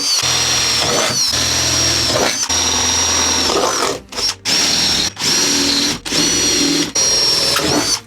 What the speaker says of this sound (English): going in with the 8mm